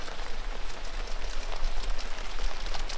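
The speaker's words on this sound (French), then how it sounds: "Il pleut." Steady rain falls continuously, a dense hiss of drops pattering on a surface, close and even throughout with no talking.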